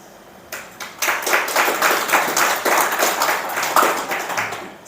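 An audience at an indoor religious moderation talk breaks into applause, a dense sustained patter of many hands clapping that starts abruptly and carries on steadily for several seconds.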